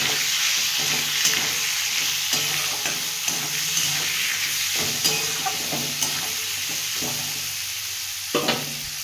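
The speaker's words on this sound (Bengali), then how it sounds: "মূলোটা একটু ভেজে নেব, লাল লাল করে" Radish pieces frying with a little salt in a pan, a steady broadband sizzle with repeated clicks and scrapes of stirring, close and fairly loud, no talking.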